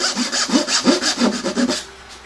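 Close, rhythmic rasping strokes of a hand saw cutting a wooden dovetail, about eight quick back-and-forth pushes in a steady cadence before trailing off.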